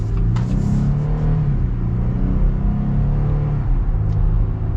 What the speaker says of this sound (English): we're gonna get up and get our acceleration now